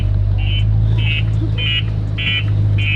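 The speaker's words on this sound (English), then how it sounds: "This is what controls his alarm and his honk." A remote-controlled car alarm on a Lamborghini chirps in a steady repeating pattern of five short, loud beeps roughly half a second apart over a low constant hum, with someone speaking alongside.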